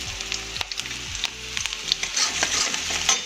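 Masala sizzles and fries in a pan for crispy chilli potatoes, a steady bright crackle broken by clinks and scrapes of stirring, close and without talk.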